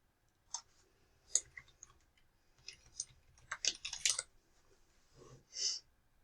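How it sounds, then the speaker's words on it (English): Sparse, faint keystrokes on a computer keyboard, with quiet scattered clicks and a few short bursts of typing in a quiet room. "you can go ahead and start to type the title of it in and find that LibGuide"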